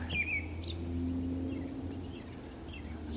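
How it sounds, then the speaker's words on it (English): A few faint, thin bird chirps and a short whistled call sound outdoors against a low steady background hum, distant and sparse, with no one talking. "I hear birds over there."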